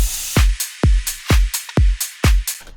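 Punchy impacts in an FL Studio electronic drum arrangement, a regular beat of heavy booming hits with long low tails, layered with bright crashy highs and quick clicks between them, loud and up front, no talking.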